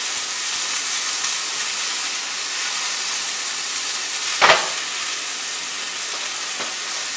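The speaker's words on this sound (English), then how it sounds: "Add a little bit more oil and get my garlic going in that oil." Garlic sizzles in oil in a hot pan, a steady close frying hiss that runs throughout with a brief crackle partway through and no talking.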